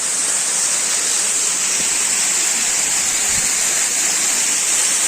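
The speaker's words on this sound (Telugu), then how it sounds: "వాటర్ ఫాల్ అయితే సూపర్ ఉంది, చూసేటప్పుడు." A waterfall at Yercaud in Tamil Nadu roars with a constant, dense hiss of falling water, loud and close, with no other sounds breaking through.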